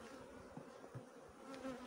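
Honey bees buzzing steadily around an opened beehive during inspection, a faint, continuous hum with a few brief louder passes close by.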